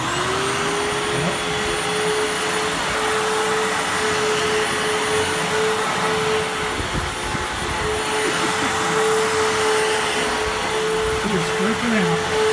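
A Fantom Fury vacuum cleaner runs loud and steady throughout, a constant close motor whine with a sustained high tone, while a dog makes faint squeaky whines underneath.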